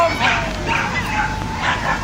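Dogs yipping and whimpering at a flyball dog show, excited barks and whines repeating over a busy background with a commentator's voice running over them.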